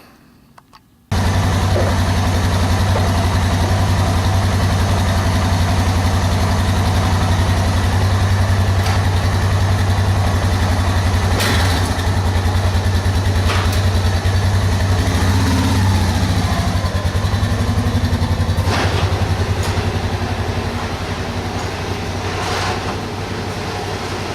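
A Suzuki DR 650 dual sport motorcycle engine starts up and runs at a loud, steady idle nearby, a continuous low throbbing drone with no talking.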